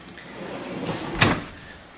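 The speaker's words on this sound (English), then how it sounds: "So, drawers, they open fully." A full-extension cabinet drawer with solid maple interior and half-blind dovetails slides along its runners and then closes with a single sharp knock, heard close up with no talking.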